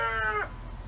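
A crowded flock of backyard chickens sounds off nearby, a short drawn-out rooster-like call fading into softer clucks and murmuring.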